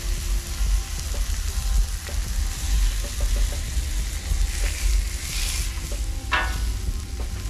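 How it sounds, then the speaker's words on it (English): Striped bass fillets sear skin side down on a hot griddle, a steady close crackling sizzle with scattered pops and a brief louder hiss near the end, no voices. "You can hear that nice sear right onto the griddle."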